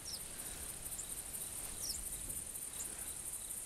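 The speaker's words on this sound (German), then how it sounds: "die Grillen zirpen, das ist sehr schön" Crickets chirp steadily in the hunting game The Hunter, a continuous high trilling chorus over a soft outdoor hiss, with a few fainter bird-like peeps and no talking.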